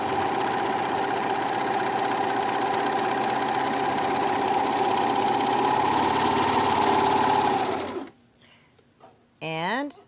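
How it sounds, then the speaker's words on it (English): A serger runs in one steady, loud stretch while stitching over a fabric swatch during tension balancing of its loopers and needles, then stops abruptly. A brief voice follows in the quiet. "let's go ahead and just stitch over top of this swatch"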